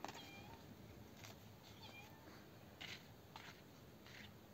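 A few soft cat meows, some rising and falling, over a quiet hissy outdoor background.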